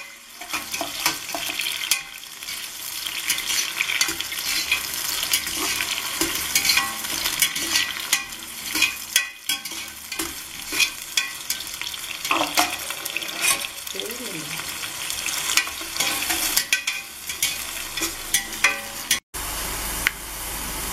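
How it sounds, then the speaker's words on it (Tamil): Onions frying with curry leaves, garlic and green chilli in a pan for Karnataka bisi bele bath, a steady close sizzle with stirring scrapes and kitchen clatter throughout, no talk. "வெங்காயம் நல்லா ஃப்ரை ஆயிடுச்சு."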